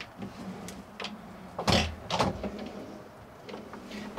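Large drawers in a Morelo Empire Liner Actros 2023 motorhome sliding open and shut, a few soft rolling and thudding bursts, close by and fairly quiet, with brief murmurs of talk.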